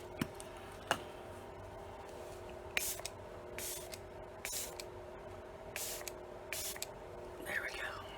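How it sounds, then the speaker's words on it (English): Several short hissing bursts of setting spray, each about half a second, repeat at close range over a quiet background with soft murmuring. "Let me spray it down."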